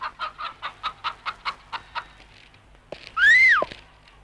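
A chicken clucks in a steady run of about a dozen close, evenly spaced clucks, followed by a short pause and one loud, drawn-out squawking call.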